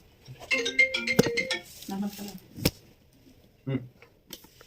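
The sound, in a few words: phone ringtone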